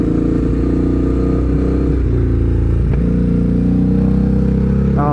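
Ducati Hypermotard 821 motorcycle engine on a ride near Okutama, Japan, a loud, close engine drone with shifting revs and wind rumble throughout, no speech.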